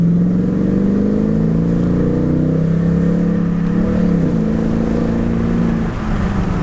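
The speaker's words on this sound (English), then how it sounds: "we're gonna hear a little bit more of that exhaust note" A Toyota Tundra fitted with a Flowmaster dual exit exhaust gives off a deep, throaty engine rumble at a steady cruise, rising and dipping slightly in pitch as the throttle changes, close and continuous, heard with the window down.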